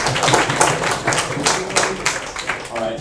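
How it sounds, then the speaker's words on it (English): A student hackathon workshop audience gives a round of applause, with dense overlapping clapping of varying loudness and voices mixed in underneath. "can you give a round of applause for that?"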